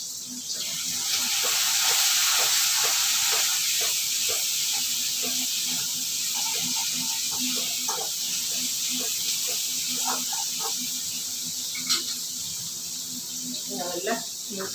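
Onion and garlic frying in a pan for chicken curry give a loud, steady hiss that runs throughout, with scattered light clinks of a utensil against the pan.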